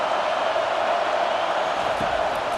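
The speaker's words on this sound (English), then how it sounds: "This crowd is trying to inspire this defense to make a big red zone stop." Steady stadium crowd roar from a College Football 25 video game during a red zone defensive stand against Texas, a dense continuous wash of noise with no clear breaks.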